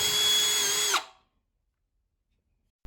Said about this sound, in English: when I'm drilling or piloting the hole